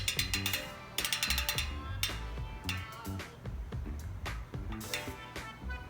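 The rear hub ratchet of a bicycle wheel clicks in quick bursts of rapid ticks close up, with pauses between spins and some handling knocks and rattles.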